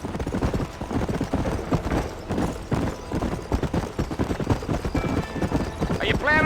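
Horse hooves gallop in rapid, rhythmic clip-clops in Red Dead Redemption, loud and close, with a brief whinny near the end and a voice talking over them.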